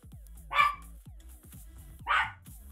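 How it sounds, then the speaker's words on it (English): A dog indoors at home gives two sharp, nearby barks about a second and a half apart, with soft knocking and clatter in the gaps between them. "That's enough. That's enough barking."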